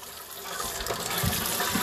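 Cold water pours for soaking sea moss, a brief close, steady gushing stream filling a container.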